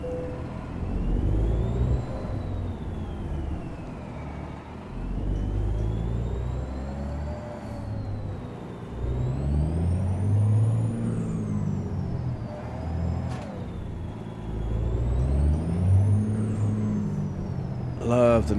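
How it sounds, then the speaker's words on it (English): A heavy truck engine with a 10-speed transmission in American Truck Simulator drones steadily and loud, its pitch climbing and falling in repeated sweeps as it works through the gears, with occasional sharp clicks. "Love the noise of that engine."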